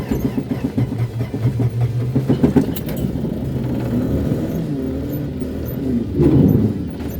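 A 1966 Dodge Dart that sat unused for 30 years cranks and starts, its engine settling into a steady, close rumbling idle that rises briefly near the end.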